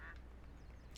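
Ducks quacking in The Legend of Zelda: Breath of the Wild, a faint, brief game sound with one short call at the start and another at the end over a quiet low hum.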